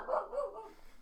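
A dog barks outdoors in a brief, fairly close burst of a couple of quick barks that trails off into quieter background noise.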